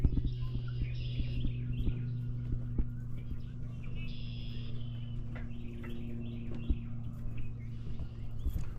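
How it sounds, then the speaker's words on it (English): Geese call from across a marsh along a park trail, their faint honks carrying from a distance over a steady low hum and outdoor background noise. "You hear all them geese over yonder?"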